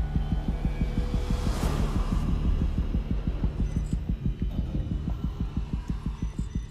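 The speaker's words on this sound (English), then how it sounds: "Why has there been like a heartbeat starting? A rapid heartbeat." A rapid, steady heartbeat pounds through the Alien Isolation video game, its low double thumps repeating quickly over a constant droning hum, loud and close with no voices.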